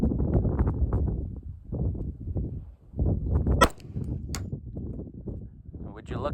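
A pistol fires a single sharp shot while a red dot sight is being zeroed at a target, and someone talks steadily before and after the crack.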